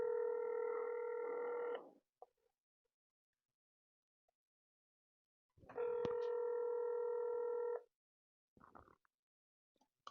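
Telephone keypad tones sound over a speakerphone as a relative is called, two long steady tonal bursts separated by silence, each followed by short clicks, clear and moderately loud with no voices.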